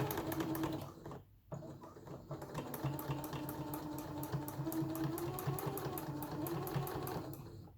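A sewing machine runs a steady stitching rhythm along a tapering seam in a fabric face mask, close and moderately loud, with a short pause near the start before it resumes and keeps going.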